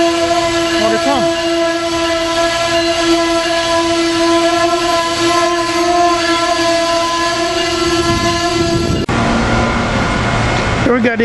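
An Amtrak ACS-64 electric locomotive leading a Keystone passenger train passes at Paoli, a loud, continuous roar with strong sustained tonal hums, the sound shifting abruptly near the end as the train goes by.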